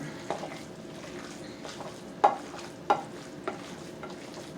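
Meatloaf ingredients worked together in a bowl with a mixing tool: close, soft wet squelching broken by a few sharper scraping taps at uneven intervals.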